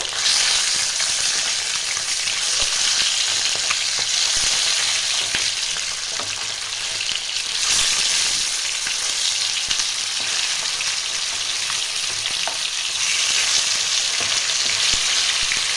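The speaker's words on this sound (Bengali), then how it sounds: "এই পাশটা আমি ভেজে নেব।" Catla fish pieces fry in oil in a pan for a Bengali-style kalia, giving a steady, close, loud sizzle with faint crackles and no talking.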